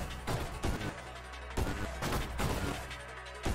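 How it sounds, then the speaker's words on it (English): Rapid homing gunfire in the space-shooter game Nova Drift, a dense, continuous barrage of blasts with a few louder punchy bursts, loud and without talk. "I just changed up from a single gun to like tons of shots."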